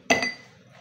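Two quick bright clinks of a dish or plastic Tupperware plate being set down close by, ringing briefly before fading into quiet room tone.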